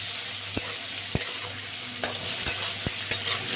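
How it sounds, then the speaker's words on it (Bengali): Bitter gourd pieces, seasoned with salt and a little turmeric, fry in hot oil with a steady sizzling hiss. A few sharp clinks of a utensil stirring the pan sound close by, and nobody speaks. "প্রথমে উচ্ছেটা আগে ভেজে নেবো"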